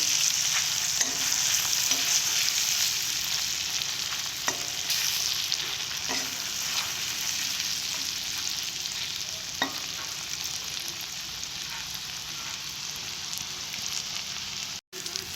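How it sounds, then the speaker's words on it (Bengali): Bottle gourd curry fries in oil with turmeric in a pan, a steady hiss of sizzling broken by occasional soft scrapes and knocks of stirring, close and continuous throughout. "অল্প পরিমাণে হলুদ দেবো কিছুক্ষণের জন্য আমি নাড়তে থাকবো"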